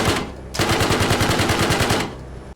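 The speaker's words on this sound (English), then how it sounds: "the M240, a lighter machine gun that's perfect for suppressing enemies or just laying down some cover fire." An M240 machine gun fires in ARMA Reforger, a loud close sustained burst of rapid evenly spaced shots lasting about a second and a half, with a short shot just before it and no talking.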